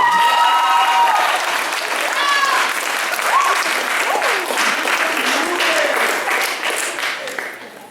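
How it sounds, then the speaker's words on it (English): Audience applause fills a debate showcase hall, steady dense clapping from a crowd lasting throughout and tapering slightly at the end, with faint voices mixed in. "So can I have a round of applause for them?"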